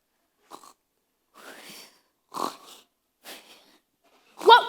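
A performer in a stage production of James and the Giant Peach voices the centipede character's snoring: a string of short, separate snorting breaths spaced across a few seconds, with the last one the loudest and harshest.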